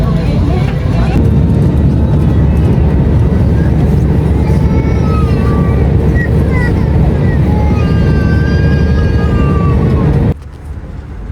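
Airplane cabin before a flight from Vietnam to Bali, a loud steady engine and ventilation rumble filling the space for about ten seconds before dropping sharply, with someone talking over it.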